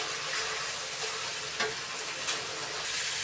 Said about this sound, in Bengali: এখন মশলাটাকে সুন্দরভাবে কষে নেব